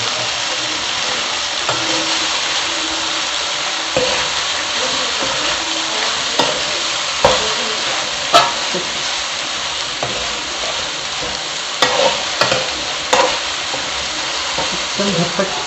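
Boiled pasta fries in a pan for white sauce pasta, giving a loud, constant sizzle, with sharp scrapes and clinks as it is stirred at irregular intervals.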